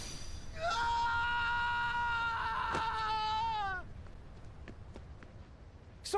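Sora from Kingdom Hearts 3 lets out a long, anguished scream that rises and holds for about three seconds, then breaks off into quieter ambient game sound with faint clicks.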